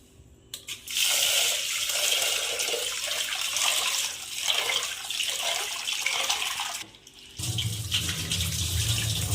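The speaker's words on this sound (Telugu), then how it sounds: "ముందుగా పప్పుని కుక్కర్లో వేసుకొని దీన్ని కడుక్కుందాం రెండు మూడు సార్లు దీన్ని వాష్ చేసుకోవాలి" Toor dal (pigeon peas) being washed in a pressure cooker under running water, a steady close splashing stream with swishing as the lentils are stirred, briefly pausing before the water flows again.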